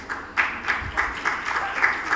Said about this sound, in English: A round of applause, thank you.